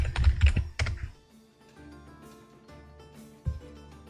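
Typing on a computer keyboard up close: a quick burst of clattering keystrokes, then a few sparse, softer clicks after a short pause.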